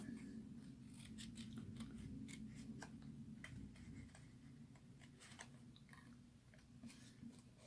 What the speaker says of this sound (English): I'm just going to take some small scissors.